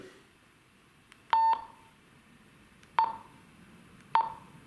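A paramotor handheld radio gives three short, sharp electronic beeps spaced about a second apart as it is switched on and its channel set, in a quiet room.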